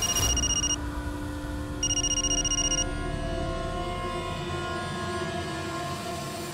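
Telephone ringing for an incoming call, two short electronic ring bursts separated by a pause, heard over a low sustained background hum with no speech.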